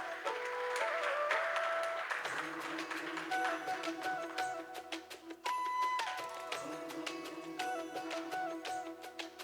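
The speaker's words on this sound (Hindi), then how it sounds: "जोरदार तालियां कशिश के लिए प्लीज।" A crowd at a Shree Ram Leela 2025 event claps in a dense, continuous patter of applause lasting several seconds, with music tones ringing faintly beneath it.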